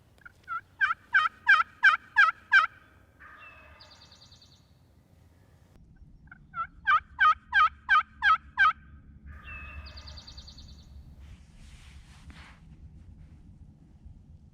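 A wild turkey gobbles in quiet woods on a still, cold, crisp morning. Two loud bursts of rapid gobbling stand out clearly, each followed by softer calls, over faint low background rumble and no talk.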